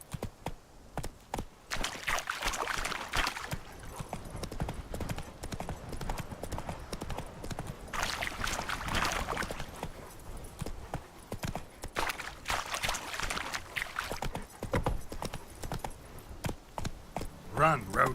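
Hooves of Roach, a horse in The Witcher 3 video game, clip-clopping at a steady rhythmic pace with bursts of louder movement and faint background sounds.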